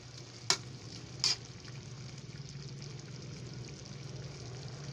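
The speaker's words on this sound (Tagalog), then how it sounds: "Haluin natin mga kakusin." Adobo pork and potatoes stirred in a pan, a steady soft frying sizzle with two brief sharp clinks of the utensil near the start, no voices.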